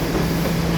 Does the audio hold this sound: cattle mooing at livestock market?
no